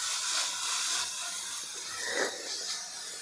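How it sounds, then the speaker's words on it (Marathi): Fenugreek leaves sizzle as they are sautéed in a pan for methi vadi, a steady soft hiss that holds through the whole moment with a slight swell near the end. "मऊ होईपर्यंत आपल्याला ही परतून घ्यायची आहे।"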